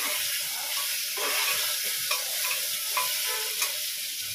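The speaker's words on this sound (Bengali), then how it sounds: "হালকা লাল লাল করে ভাজা হচ্ছে" Ginger, onion and garlic paste fries with Kashmiri chillies in hot oil, giving a steady close sizzle with a few light stirring taps.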